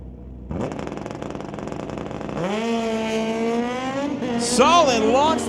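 A ZX19 motorcycle and a Harley launch side by side in a street-legal drag race, engines revving hard and rising in pitch as they pull away, loud and close with an announcer talking over them.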